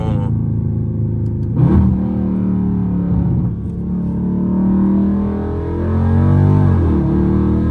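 A Dodge Scat Pack with a catless exhaust accelerates with the windows up, a loud, deep rumbling engine note rising and falling through two revving pulls, heard from inside the car.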